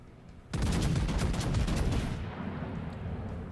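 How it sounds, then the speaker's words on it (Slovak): Naval gunfire salvo from a battleship in a World of Warships replay: a sudden loud blast about half a second in, then a rumbling roar that fades slowly. "Toto bol dobre chaotický výstrel"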